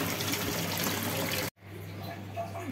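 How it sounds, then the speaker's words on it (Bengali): Tap water gushes steadily over radish greens being washed in a sink, then cuts off abruptly midway, leaving quieter trickling and faint splashes. "এই যে আমি শাকগুলি ধুয়ে নিচ্ছি, সবগুলি শাক ভালো করে ধুয়ে নেব।"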